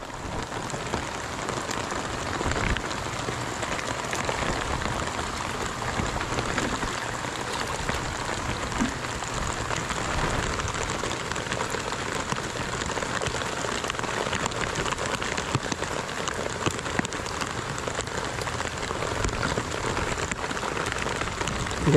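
Steady heavy rain pours and patters on surfaces outdoors during the monsoon season in the Philippines, a dense, continuous hiss that stays even in loudness with no talking.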